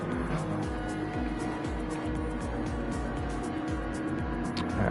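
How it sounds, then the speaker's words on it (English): A Lamborghini race car in Gran Turismo 7 runs through the last corner, its engine droning steadily with repeated rising rev sweeps, loud and continuous throughout. "Agassi in P12, coming through the last corner now in his Lamborghini."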